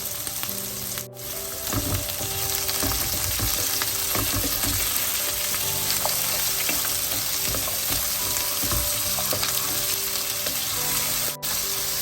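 Long beans and potatoes fry in a pan for Sri Lankan sambar, giving a steady, dense sizzle that runs the whole time with a few scraping stirs and no talking.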